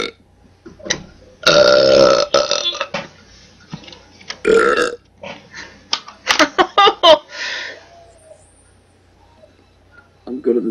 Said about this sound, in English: I'm good at this burping business.